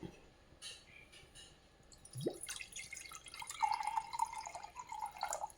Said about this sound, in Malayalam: കുറച്ച് വെള്ളം ഒഴിച്ച് കുറച്ച് മോരൊഴിക്കും